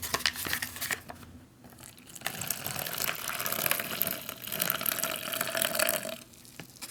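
Hot water gushes and gurgles into an MRE pouch (Menu 19 Beef Roast with Vegetables) in a close, steady pour with crinkling of the pouch, running several seconds before easing off.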